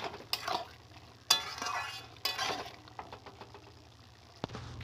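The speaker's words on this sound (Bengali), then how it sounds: "চিনি দিয়ে ভালো করে নেড়ে চেড়ে নেব।" Bottle gourd and shrimp curry with sugar is stirred in a pan: a few sharp scrapes and knocks of a spoon over a soft, low sizzle, fairly quiet and close.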